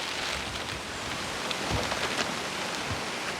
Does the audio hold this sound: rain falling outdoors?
yes